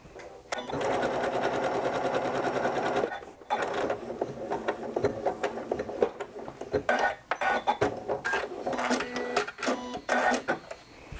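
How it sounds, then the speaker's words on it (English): A sewing machine stitching a quilt-as-you-go block, with a steady mechanical whirr at first, then short bursts of stitching broken by clicks and pauses. Soft speech can be heard now and then. "I only want to add a couple of stitches to this, but again, using that seam line as a guide"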